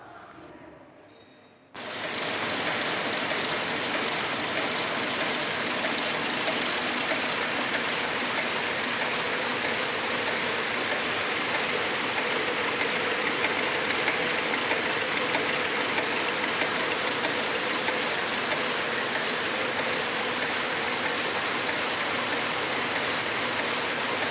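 After a quiet moment, a dobby loom starts up and runs with a steady, dense mechanical clatter that continues without pause.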